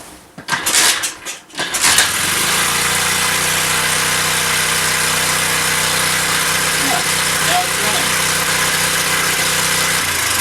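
A Honda Z50 clone motorcycle's small engine, run with no throttle and little or no choke, sputters at first and then holds a steady close idle rumble for several seconds; it does not clearly die, and no one talks.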